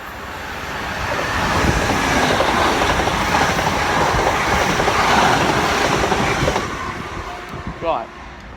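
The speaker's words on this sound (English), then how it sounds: "There's a train coming there." A train rumbles past close by with steady clattering wheels and broadband roar, fading toward the end as a brief squeal sounds.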